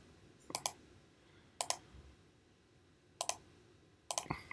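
Computer keyboard typing in four short bursts of quick clicks separated by pauses, close and fairly faint in a quiet room.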